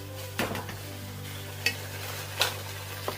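Noodles and pasta water simmer in a frying pan for a sommelier's Napolitan, a soft, steady bubbling sizzle under a constant low hum, broken by a few light stirring scrapes and clinks.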